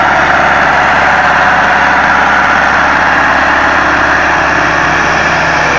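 An old tractor diesel engine idles loud and close, a steady, even rumble with a constant mechanical rattle and no change in pace throughout.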